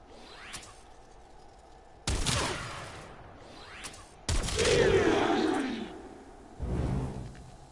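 Lanka rifle shots in the video game Warframe: three heavy, charged blasts, each a sudden loud crack trailing into a long roaring swoosh, separated by quieter gaps with faint whooshes.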